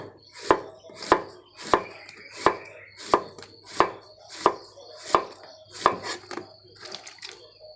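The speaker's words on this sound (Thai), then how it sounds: "เราก็ต้องหั่น หั่นบาง บางๆ แล้วก็รีบลงไม่ให้ถูกอากาศ" A knife slices a young banana stem into thin pieces, making about a dozen crisp, evenly spaced chopping strikes on a board, close and clear with no talk.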